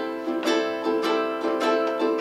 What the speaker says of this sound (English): It's called the shuffle strum. It's also called the swing strum.